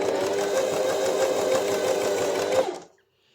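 A sewing machine runs steadily under pedal control with a loud, continuous mechanical whir and fine rapid stitching rhythm, then stops abruptly near the end, leaving silence.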